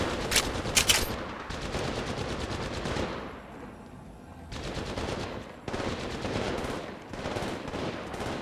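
Automatic gunfire in Apex Legends Mobile, played as Bangalore, comes in several loud sustained bursts broken by short pauses.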